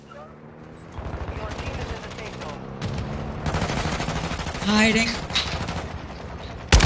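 An RPK machine gun fires in Fortnite, bursts of rapid shots rising in loudness over several seconds, with a player talking over the gunfire throughout.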